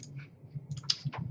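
Typing on a computer keyboard at a domain controller, a quick uneven run of soft clicks and taps, close and fairly quiet with no voices.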